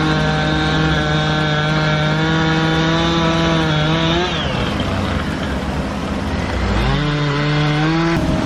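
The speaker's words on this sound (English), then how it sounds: "Those chainsaws are about out of oil," Chainsaws running low on bar oil and gas buzz loudly while cutting a tree outdoors, near and continuous, pitch sagging as the blade bites into the wood, then rising again.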